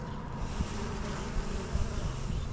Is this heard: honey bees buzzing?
yes